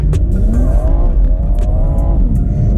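A BMW M240i tuned with Bootmod3 Stage 2+ accelerating hard in sport mode, its engine loud and close, revving steadily upward with a deep rumbling exhaust through a gear change.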